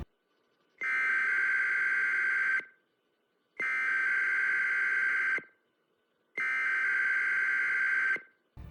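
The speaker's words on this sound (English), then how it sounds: "The debrief is just an emergency broadcast message, which drones with an unsettling alarm." A harsh, droning electronic emergency broadcast alarm from a Modern Warfare video game sounds three times in long sustained blasts, separated by short gaps of silence.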